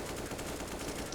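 A MAC-10 fires in rapid automatic bursts during a Counter-Strike match on the map Mirage. The shots are fast and even, quiet and somewhat muffled, and last about a second.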